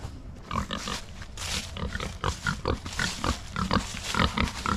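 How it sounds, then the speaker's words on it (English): Pigs grunt and snort close by in quick, irregular bursts, several animals overlapping in a busy, continuous chorus. "Let's walk over here and check on the pigs real quick"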